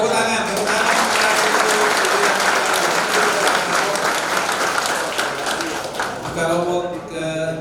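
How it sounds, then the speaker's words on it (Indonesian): Audience applause at a townhall meeting, a sustained, dense burst of clapping from a large crowd that fades near the end as a voice begins speaking. "Terima kasih Bu, tepuk tangan."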